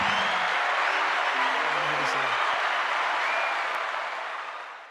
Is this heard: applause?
yes